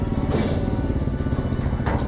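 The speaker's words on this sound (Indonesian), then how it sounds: "Cukup banyak motor yang bersama kami." Several motorcycles rolling off a ferry at Lembar harbour in Lombok, a dense close clatter of small engines revving and idling together, loud and continuous with brief bursts of throttle.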